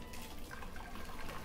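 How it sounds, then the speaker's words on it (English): Spice-infused boiled water for rice pudding being strained into a pot, a soft, steady trickle and splash of liquid that runs continuously and quietly throughout, with no voices. "So she's just straining the water."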